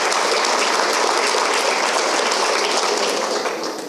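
A crowd claps steadily in a dense, sustained round of applause that tapers slightly at the end.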